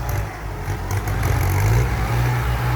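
A Yanmar tractor diesel engine chugs steadily close by, a low rumbling drone with no voices over it.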